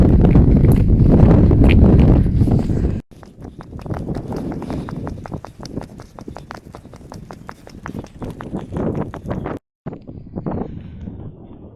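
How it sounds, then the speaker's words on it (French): Outdoor wind buffeting the microphone in strong, rough gusts, loudest at the start, then broken into choppy rhythmic bursts with brief cut-outs. "le vent ça me fait pleurer"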